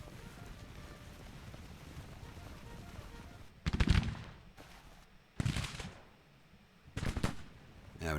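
Artillery and rifle fire in a Civil War strategy game: after several seconds of low wind-like rumble, three loud, separate bursts of gunfire boom out, each trailing off, with no talk over them.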